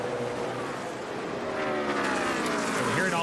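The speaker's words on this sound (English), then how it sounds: "We're hearing all these tight race cars." NASCAR stock cars race at Dover in the 2020 Drydene 311, with a continuous loud roar of engines that rises into a whining pass near the end and no voices over it.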